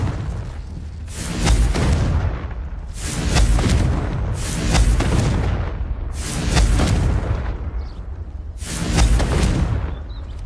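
Confringo explosive spells blasting in a Harry Potter video game: five heavy, booming detonations about two to three seconds apart, each a loud burst that fades before the next.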